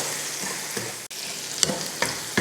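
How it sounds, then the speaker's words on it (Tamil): Vegetables sautéing in hot oil for restaurant-style egg fried rice, a steady close sizzle with scraping stir strokes and a few sharp clinks of the utensil against the pan, no talking. "காய் வந்து நம்ம இந்த எண்ணெயில் வதக்குறதுலையே நல்லா வெந்து வந்துடும்."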